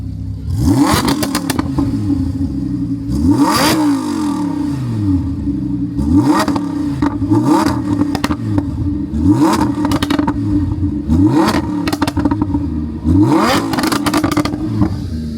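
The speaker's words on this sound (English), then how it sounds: "we're gonna let the fans hear what a V10 supercar sounds like" Lamborghini Huracan V10 supercar engine revved repeatedly, loud and close: about eight sharp throttle blips rising and falling over a steady idle rumble, with no talking.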